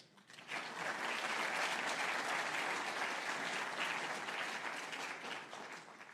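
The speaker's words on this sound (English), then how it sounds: "Please answer with a round of applause if you would have signed up for that result." Press event audience breaking into applause, a full crowd clapping that swells quickly to a loud sustained roar of hands and holds steady before easing slightly at the end.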